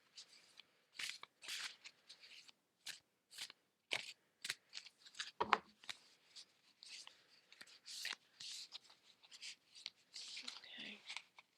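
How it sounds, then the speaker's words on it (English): Oracle cards shuffled by hand in a quiet room, producing soft, close, irregular slides and flicks of card stock in quick bursts, with faint whispery breaths between and no clear speech. "shuffling the cards"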